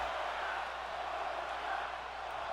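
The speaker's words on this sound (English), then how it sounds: "Crowd chanting one more time." A wrestling arena crowd at a cage match makes a steady, distant roar, a broad rumble of many voices that never breaks into one clear chant.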